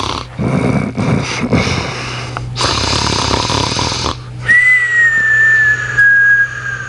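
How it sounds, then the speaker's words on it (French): Loud, exaggerated snoring with rumbling breaths, followed by a high whistling tone, like a cartoon snore effect. "le loup était couché sous l'arbre et ronflait à en faire trembler les branches"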